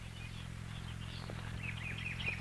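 Mockingbirds chirp and warble in varied, repeating phrases over a steady low hum, the calls moderately distant and fairly faint.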